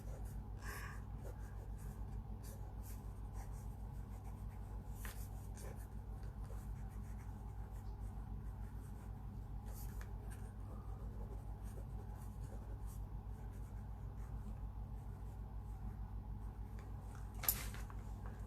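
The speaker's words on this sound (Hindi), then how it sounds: "उसके ऊपर आपने क्या लिखना है मैं अभी आपको लिख के दिखाती हूँ।" Pen writing on sticky notes for a motivational talk, a soft, steady scratching that runs faint and close throughout, with a brief sharper tap near the end.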